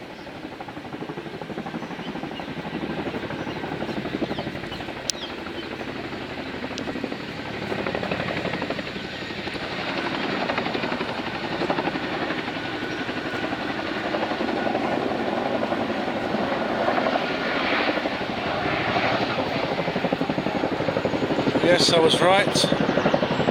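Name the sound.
Chinook CH-47 helicopter flying overhead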